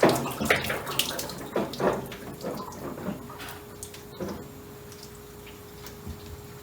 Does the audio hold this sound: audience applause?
no